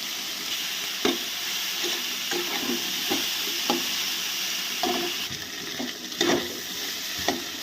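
Food being stir-fried in a pan with turmeric, salt and sugar: a steady soft sizzle with repeated sharp scrapes and clacks of a spatula against the pan, close and alone.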